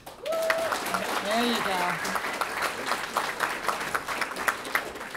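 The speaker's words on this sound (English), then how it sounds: "give them a big whopping round of applause just for participating." An audience at a school poetry slam claps for the participants, a moderate, mid-distance patter of many hands that continues under a brief spoken remark near the start.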